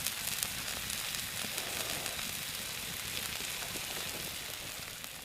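Steak searing in an iron skillet over a campfire outdoors, a steady dense sizzle and crackle holding evenly loud from start to finish with no talking.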